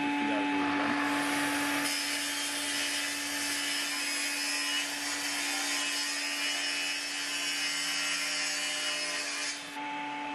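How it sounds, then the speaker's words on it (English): A track saw rips through a marble-effect splashback board in one long, steady cut, a loud continuous whine with grinding friction that starts abruptly and stops near the end, with no talking. "Then lay down my track and I can begin to cut."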